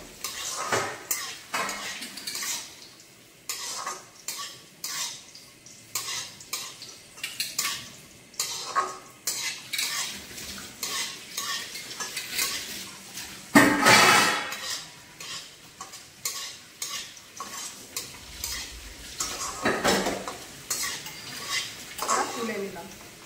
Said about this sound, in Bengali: এবারে দিয়ে দেবো কিশমিশ। এটাকে হালকা লাল করে ভেজে দেবো।